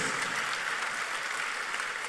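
An audience applauds at a ceremony during an Africa Skills Week event in Ghana, a steady wash of many hands clapping at moderate distance with no break.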